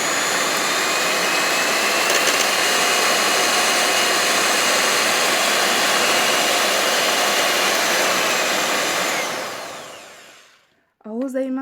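An electric hand mixer whirs steadily at its second speed setting, a loud, constant motor drone that runs unbroken for about ten seconds before cutting off, followed by a brief voice.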